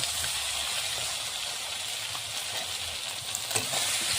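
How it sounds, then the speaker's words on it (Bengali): Spice paste sautéing in a pan for a village-style sour snakehead fish curry with raw mango, a steady close sizzle and hiss with faint stirring scrapes, no voices. "মশলাটাকে আমি হালকা একটু কষিয়ে নেব।"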